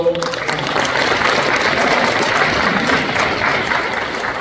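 Applause from the audience at a commemorative ceremony for a president's birthday anniversary, steady clapping from a crowd held at an even volume, with some voices murmuring underneath.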